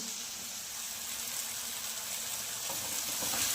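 Onions with garlic-ginger paste sizzle steadily in a pan, a dense close-up frying hiss that swells slightly toward the end, with no talking.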